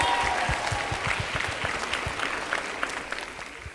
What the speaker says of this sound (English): can we just give Katie a round of applause?